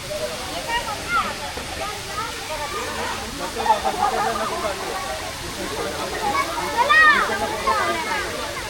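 A waterfall at Gagangiri Maharaj Math in Khopoli pours in a steady, close rushing roar of falling water. Brief splashes stand out, and faint voices sit underneath.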